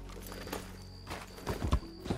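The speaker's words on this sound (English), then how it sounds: "Come, horsey." Horse hooves clip-clop on the ground in a western role-play video game, a few uneven close strikes over a low background hum, with no talk.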